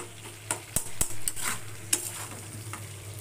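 Potatoes frying in oil for a curry, stirred with a utensil, giving a steady sizzle punctuated by a few sharp metallic clinks and scrapes against the pan, close and with no talking.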